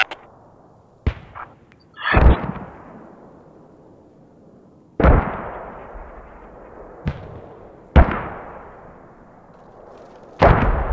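Artillery fire mission landing in the military shooter Squad: a string of heavy booms spaced a few seconds apart, each with a sharp onset and a long rumbling decay, some near and some more distant, with no talk over them.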